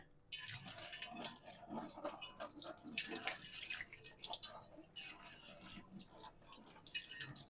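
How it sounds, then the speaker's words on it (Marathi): Running tap water splashing over a new cast iron tawa being rinsed, a steady faint rush with irregular splashes and scrubbing. "याला मी आधी धुवून घेतेय पाण्याखाली"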